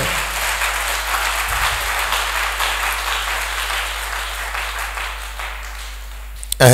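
A church congregation at a night prayer service applauds and cheers loudly for the Lord, a dense and sustained roar of clapping that carries on for several seconds and breaks off abruptly at the end.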